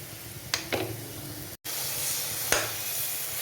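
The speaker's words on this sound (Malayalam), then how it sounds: "സവോള വഴന്ന് വന്നിട്ടുണ്ട് നമുക്കിനി ഇഞ്ചി വെളുത്തുള്ളി പേസ്റ്റ് ഇടാം" Ginger garlic paste sizzles and fries with softened onions in a pan, a steady close hiss broken by a few stirring scrapes and short sharp spits.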